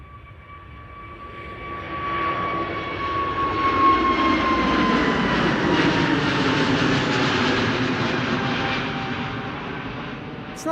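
An Airbus A321neo departs Amsterdam Schiphol, its jet roar swelling from a distance to a loud peak mid-pass and then slowly fading, with a clear high engine whine sliding downward.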